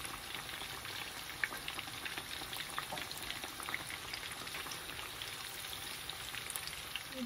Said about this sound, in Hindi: फिश की मैंने दोनों साइड इसकी मैंने फ्राई कर ली है।